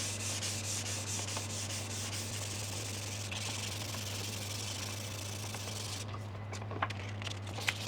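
Steady hand-sanding of a John Parris pool cue along the grain to remove minor scratches, a continuous soft abrasive rubbing with a low hum underneath, close and alone without talk.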